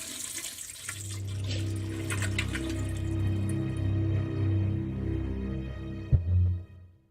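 Old, dirty toilet in a prison video game flushing, a loud sustained rush and gurgle of water over about seven seconds, ending with a sharp clunk and a final swirling drain.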